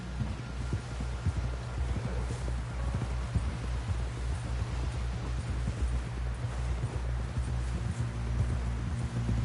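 Horse hooves gallop at a steady, driving rhythm in Red Dead Redemption 2, a continuous run of close, heavy thuds over a low rumbling hum that lasts the whole stretch without pause.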